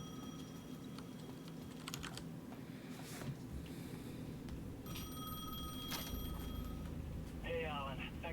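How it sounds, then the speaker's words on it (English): A payphone rings at the edge of a plaza in the survival horror game Alan Wake 2, a faint repeated bell heard beneath close keyboard typing. "The payphone at the edge of the plaza was ringing again."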